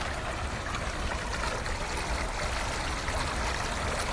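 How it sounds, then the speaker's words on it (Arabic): Steady flowing water, a continuous broad rush like a stream or fountain at a residence in Turkey, constant in level and heard alone. "سمعوا الصوت ديال الماء"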